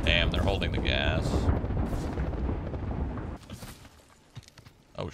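A grenade blast in the battle-royale shooter Apex Legends, a loud rumbling explosion with crackling debris that rolls on for several seconds before thinning out, with a few scattered impacts afterward and brief voices over the action.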